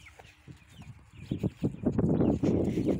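Cochin and Lakenvelder chicks clucking and peeping close by, scattered soft calls at first building into a dense, louder flurry of clucks with some rustling movement.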